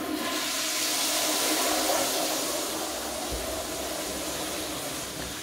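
A clogged toilet at home is flushed, giving a loud, close, hissing rush of water that holds steady and then slowly tapers off.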